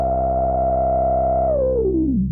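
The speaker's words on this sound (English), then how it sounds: "the filter self-oscillates, so at some point, I'm going to start hearing a sine wave" A Moog Grandmother synthesizer's self-oscillating filter rings out as a steady, pure sine-like tone with a low drone underneath, then glides smoothly downward in pitch before cutting off.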